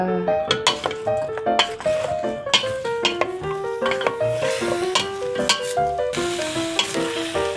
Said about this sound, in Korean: 불을 켜고 다시 볶겠습니다.